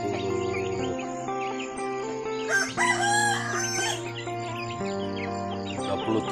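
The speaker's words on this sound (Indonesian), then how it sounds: "inilah ayam pertama saya" Free-range village chickens cluck and chatter close by while a rooster lets out a loud, drawn-out crow in the middle.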